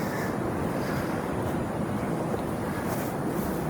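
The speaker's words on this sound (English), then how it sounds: "behind me is the sea." Steady seashore wash of waves rolling onto a beach, a continuous broadband roar with wind buffeting the microphone and no clear individual breakers.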